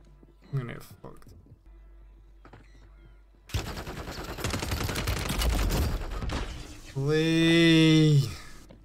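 Gunfire in the Warzone video game arrives as a dense burst of rapid shots after a quieter stretch, loud and close, with a player's voice talking over parts of it.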